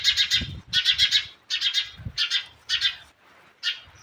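House sparrow chicks chirp in rapid, high-pitched clusters, repeated in short bursts with brief pauses, close by with soft low rustling underneath.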